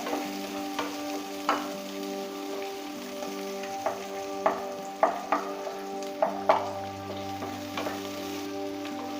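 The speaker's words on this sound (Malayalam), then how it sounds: "അങ്ങനെ ഈ സവാള ഒന്ന് നന്നായി വഴണ്ട് വന്നതിന് ശേഷം" Square-cut onions sauté in oil in a pan for garlic chicken, a steady close sizzle broken by sharp scraping clicks of a spoon stirring at irregular intervals.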